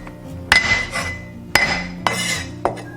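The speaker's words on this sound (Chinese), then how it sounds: "准备一些大蒜，先拍碎" Garlic cloves are smashed under a flat knife blade on a board, four sharp, close knocks with a metallic clink, spaced irregularly about a second apart.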